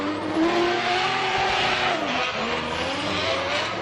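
Kyle Mohan's rotary-engined Mazda MX-5 Formula Drift car screams at high revs with squealing tires as it initiates a drift up a banked track during qualifying in New Jersey, loud and continuous with rising and falling engine pitch.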